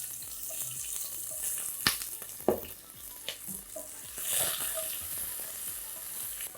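Whole spices (black cardamom, black peppercorns, cumin) and green chillies hit hot oil for a veg pulao, making a fairly quiet, crackling sizzle broken by a few sharp clinks and pops.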